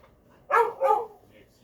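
Dogs waiting to be fed let out two sharp, close barks in quick succession, clear against a quiet background.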